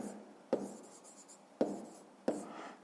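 A pen writes out a fifth-grade maths solution on paper, three short scratchy strokes landing about a second apart against a quiet room background.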